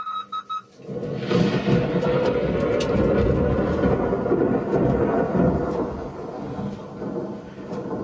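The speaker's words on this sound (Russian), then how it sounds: "Вот это гроза." A thunderstorm with a long, deep rolling rumble of thunder that starts abruptly after a few short tones and stays loud and close, fading slowly at the end over steady rain.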